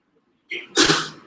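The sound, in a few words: sneeze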